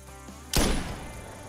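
A single sharp rifle shot cracks out at a fox in the hunting game Call of the Wild, then a short decaying echo rolls away, all after a quiet outdoor lull.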